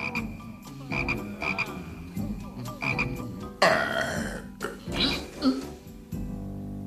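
Cartoon toads croaking, repeated deep throaty croaks in quick irregular bursts from several animals, loud and near, with a few gurgling calls overlapping.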